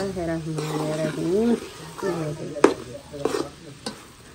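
Food frying in a pan is stirred and mixed, with a soft sizzle and a few sharp clanks of the utensil against the metal, partly under a person talking nearby.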